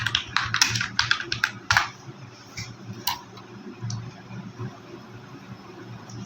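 Bursts of clicky typing on a computer keyboard while entering a search, quick keystrokes clustered in the first two seconds with a few isolated taps afterward over a low steady hum.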